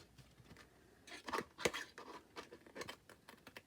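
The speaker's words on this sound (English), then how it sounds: "And then I'm just going to snip it off" Scissors snip through card at an angle while a Christmas picnic basket is being made: a few short, crisp cuts with light rustling of the card between them, close and fairly quiet, with no talk.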